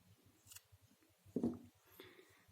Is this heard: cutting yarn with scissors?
yes